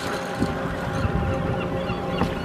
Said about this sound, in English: And the birds holler.